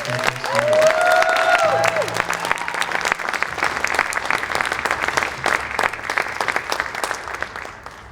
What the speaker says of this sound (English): Let's give a round of applause for Arts 2020.